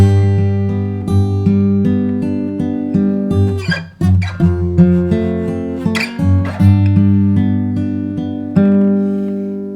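An acoustic guitar strums full chords in a steady rhythm, each strum ringing out into the next, close and clear with no voices.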